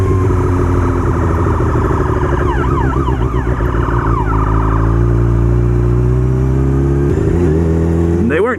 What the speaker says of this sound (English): fire truck and an ambulance